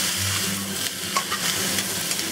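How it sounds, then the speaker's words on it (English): Eggs with black fungus, seasoning salt, sesame oil and Shaoxing wine sizzle in a wok, a constant hiss and crackle with light scraping and tossing sounds close up. "Give this a good toss."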